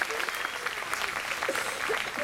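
A folk concert audience at an outdoor closing set applauds warmly, a full, sustained wash of clapping with faint voices mixed in.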